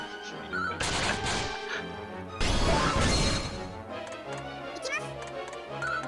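Combo cannon attack in the mobile game Hoshi Dragon Quest: bursts of crashing, booming impacts over busy ticking effects and background music, loud and dense.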